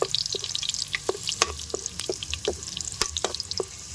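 Garlic frying in a generous amount of cooking oil for Filipino laing with taro leaves, with a steady crackling sizzle broken by scraping stir strokes and clinks of a utensil against the pan, close and alone without talk.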